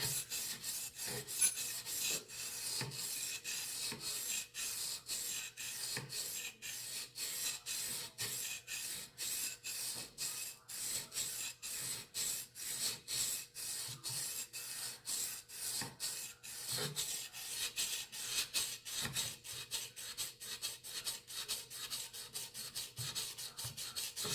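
A knife blade is drawn across a sharpening stone on a Konigsberg Crutch guided system, producing a fast, even series of close, faint rasping strokes that continue without pause.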